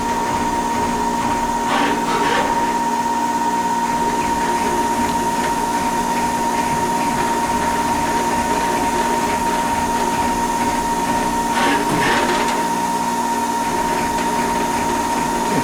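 A Haas Super Mini Mill 2 vertical machining center runs a pecking drill cycle, giving a steady high spindle whine over continuous machine hum, with brief swelling bursts near the start and again later as the drill pecks.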